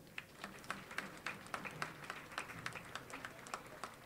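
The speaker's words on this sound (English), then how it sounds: "Let's give them a round of applause for their induction into the 2021 KC Athletics Hall of Fame." Scattered applause from a crowd at a college football game's Hall of Fame induction ceremony, thin and distant with sporadic individual claps rising and falling.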